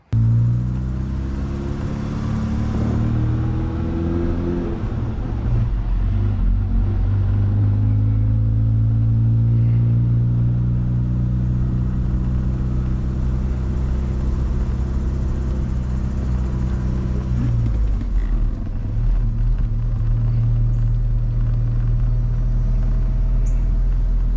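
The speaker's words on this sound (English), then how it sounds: "I installed the starter and it's running and driving great right now." A Saab 900 Turbo SPG with a newly installed starter runs and drives on the road. A loud, steady engine rumble holds throughout, rising in pitch as it accelerates and easing as it shifts, heard up close with no talking.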